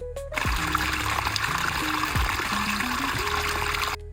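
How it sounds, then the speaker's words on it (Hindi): A mountain stream fed by a glacier near Manali, heard as a steady broadband rush of flowing water, fairly close and continuous, with a few brief low tonal sounds layered over it. "ये वो स्ट्रीम है जिसकी मैं बात कर रही थी, और ये झरना ऑल द वे ऊपर ग्लेशियर से आ रहा है"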